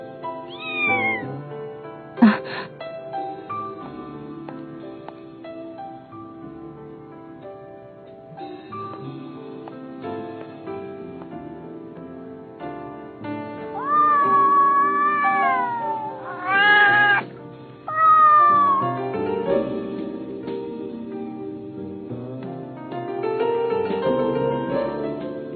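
A cat meows several times, drawn-out rising and falling calls spread across the stretch, loudest in a cluster near the middle, over a quiet steady tonal background.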